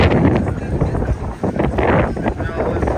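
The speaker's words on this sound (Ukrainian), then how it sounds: "дивіться, який вітер" A storm's strong wind buffets loudly and continuously at sunset in Odesa, gusting and roaring with rushing noise throughout.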